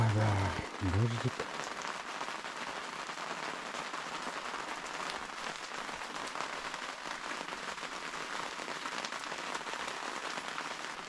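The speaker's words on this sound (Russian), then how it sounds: "Дождик." Steady rain falls at a campsite, a dense close hiss of drops pattering on surfaces, with a brief muffled bump at the very start.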